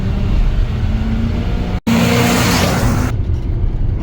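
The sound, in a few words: 1991 Ford F350 brush truck, 7.5 liter 460 big block engine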